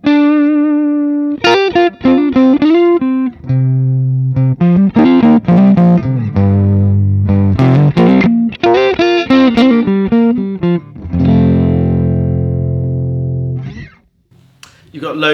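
Paul Reed Smith semi-hollow body electric guitar played on the neck pickup in the tapped position, a thick, slightly overdriven tone with sustained chords and single-note runs, loud and close.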